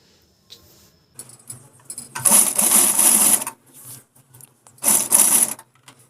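A sewing machine stitches blouse piping in two loud close bursts of rapid whirring, with softer mechanical clicks and handling noises in the gaps.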